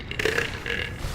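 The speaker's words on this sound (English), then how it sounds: "Are you still burping now?" A character in the video game Team Fortress 2 lets out a single long, gravelly burp, loud and close, lasting about a second.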